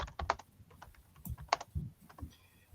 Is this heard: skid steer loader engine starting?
no